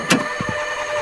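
A car engine turns over briefly, with a short burst of cranking followed by a couple of low rumbling pulses, close and moderately loud with no talking.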